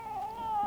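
A cat gives a single drawn-out, wavering meow of protest, close and fairly loud, holding one pitch for nearly a second against a quiet outdoor garden background.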